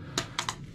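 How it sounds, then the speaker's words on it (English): Typing on an Apple computer keyboard, three quick close key clicks in under a second, quiet and alone. "It's an Apple keyboard."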